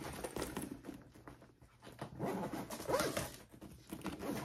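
A zipper is pulled open across the top of a fabric toiletries tote bag, giving close, scratchy rasping bursts in short uneven pulls over a few seconds, with soft handling noise around them.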